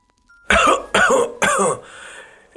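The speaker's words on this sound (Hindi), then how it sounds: "खांसते और हकलाते हुए बोला" Three loud, raspy coughs in quick succession, close up, trailing off into a breathy wheeze.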